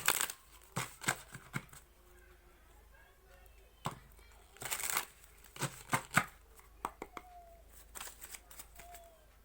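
Tarot cards being shuffled and handled in short, crisp riffling bursts and soft slaps, irregularly spaced and close, with a voice speaking quietly in between.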